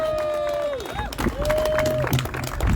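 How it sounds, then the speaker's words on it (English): Outdoor Cancel Rent rally crowd clapping and cheering, with whoops and shouted voices rising over steady, loud, dense applause throughout. "Make some noise, y'all. Clap it up."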